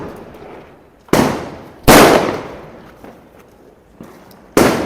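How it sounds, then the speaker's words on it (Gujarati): Loud Diwali mirchi firecrackers bursting one after another, three sharp bangs with echoing tails and a fainter pop between them. "તો હવે હેવી ટાઈપનો મિર્ચી અમે ટ્રાય કરતા છીએ."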